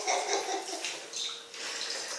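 Water runs steadily from a tap while dishes, cups and spoons are washed in a home kitchen, a soft continuous splashing rush with faint clinks and no speech.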